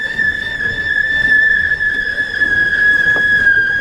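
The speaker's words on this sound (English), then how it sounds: "Do you want the squealing live bait pump on?" A worn live bait pump running on a boat gives off a loud, steady, high-pitched squealing whistle that holds one tone throughout, with a low engine-like rumble beneath it.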